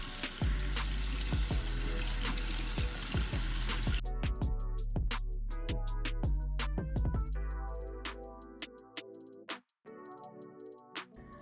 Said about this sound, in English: I'm going to just run it under some water just to make sure I remove most of the substrate.